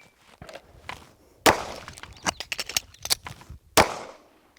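Pistol shots during a tactical reload drill on a range: two sharp, loud reports about two seconds apart, with clicks and handling noises of the magazine change between them and a brief cluster of smaller cracks in the middle.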